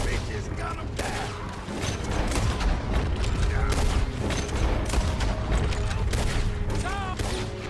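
Dense, rapid gunfire from a coach robbery in the Red Dead Redemption 2 video game, shots crackling continuously over rumbling wheels and hooves, with shouting voices mixed in.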